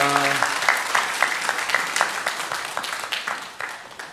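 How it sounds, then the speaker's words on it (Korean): Applause rises from a church congregation at a Sunday service, offered as praise to God, with fairly close, distinct claps in a loose rhythm and a brief tone at the start. "영광의 박수를 우리 하나님께 올려드리겠습니다."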